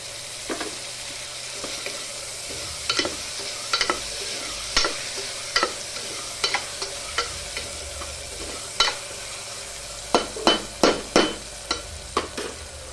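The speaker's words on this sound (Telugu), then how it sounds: "పచ్చివాసన పోయేంత వరకు బాగా వేగనియాలి" Goat leg curry with tomato frying in a pan, a low steady sizzle broken by repeated scraping stirs of a spoon, with a quick burst of stirring strokes near the end.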